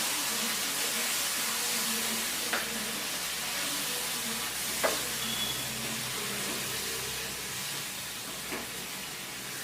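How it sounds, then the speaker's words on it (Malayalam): Boiled liver stirred in a pan as its water cooks off, a steady close hiss of sizzling and steam with three or four short scraping stirs spaced apart, no talking. "നന്നായിട്ടൊന്ന് തിളച്ച് വറ്റണം. ഇളക്കി കൊടുക്കാം."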